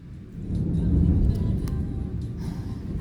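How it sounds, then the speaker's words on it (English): Low, rolling thunder from an approaching thunderstorm, a steady rumble that swells after the first half second and lingers at a distance with no voices over it. "Did you hear the thunderstorm? It's coming."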